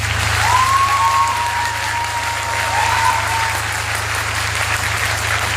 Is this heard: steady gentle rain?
no